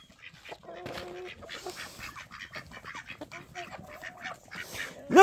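Several ducks quack and honk at night while being fed grain, close by and irregular, with goose-like calls mixed in and rustling underneath; a person speaks briefly near the end.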